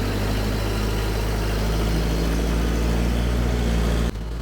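A Case 450 dozer with a four-way blade runs steadily at close range, a loud, even low engine drone that holds for about four seconds before cutting off abruptly.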